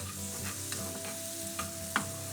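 Sour cream stirred into achiote pork in a pan with the heat just turned off, a soft low simmer of scraping and spoon clinks, with a few sharper taps standing out alone.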